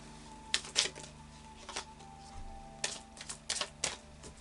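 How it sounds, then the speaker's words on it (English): A deck of Moonology oracle cards shuffled by hand, producing a few short, crisp bursts of card riffling close by over a faint steady hum. "I'll just do a final shuffle now of the Moonology cards"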